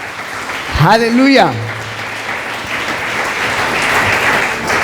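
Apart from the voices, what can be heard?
church congregation applause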